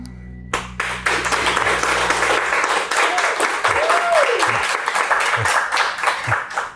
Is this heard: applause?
yes